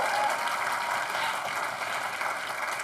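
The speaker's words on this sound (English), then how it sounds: "You clap for my parents" An audience at the Oktoberfest Women of the Year awards applauds the speaker's parents, a full, steady roar of many hands clapping together without letup.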